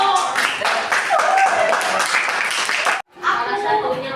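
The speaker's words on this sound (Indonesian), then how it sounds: "tepuk tangan untuk Raisa dan Pak Rida." Classroom applause from students in a junior high science lesson: a loud, dense burst of clapping with voices mixed in, cut by a brief gap before the clapping and chatter resume.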